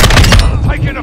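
Rapid automatic gunfire in Modern Warfare II with an M14 battle rifle, loud bursts of shots for about half a second that then drop away into lighter, more distant activity.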